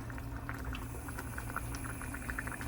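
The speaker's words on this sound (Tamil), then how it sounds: "சரி, குழம்பு வந்து கொதிச்சிருச்சு." Kuzhambu curry with appalam boiling in a pot bubbles with soft, irregular pops and patter over a steady low hum, fairly quiet and continuous.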